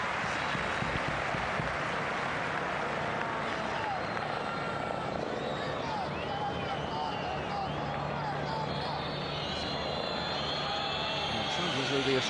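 A helicopter passes over a football match at the Estadio Monumental during Argentina v Canada, its steady rotor drone blending into continuous stadium crowd noise while a commentator talks over it.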